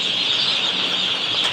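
A broiler chicken farm packed with day-old chicks sends up a dense, continuous chorus of high chirping, loud and close throughout.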